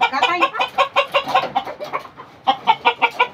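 Native chickens cluck in rapid, close, loud bursts, a short pause, then a fresh run of clucking; faint voices underneath.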